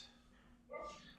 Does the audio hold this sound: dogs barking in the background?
yes